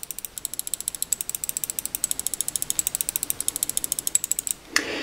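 Kailh GM 8.0 switches on an Xtrfy MZ1 gaming mouse click rapidly and evenly, about ten crisp clicks a second, close up and isolated, before a brief louder rustle at the end.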